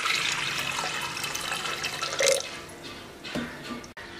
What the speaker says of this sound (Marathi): आता पाणी घालू याच्यामध्ये.